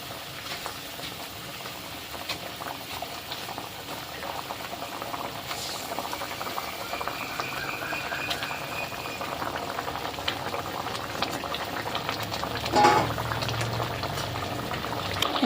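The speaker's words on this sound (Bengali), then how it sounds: "গ্রেভি ফোটার জন্য অপেক্ষা করব" Fish curry gravy boils in a pan, a soft continuous bubbling that stays low and steady throughout, with no talking over it.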